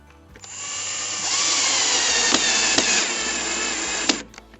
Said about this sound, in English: Every time you use a power tool and plastic, you have to be very careful